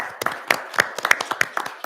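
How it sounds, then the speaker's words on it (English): A small meeting crowd gives a short round of applause for local firefighters at a township board meeting, with scattered, uneven claps close by that keep going without pause. "applause."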